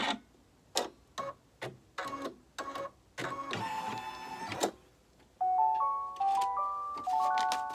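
A computerized embroidery machine stitches a lace zipper pouch, giving a run of clattering needle bursts with pauses, a longer steady stretch, then a series of electronic tonal beeps.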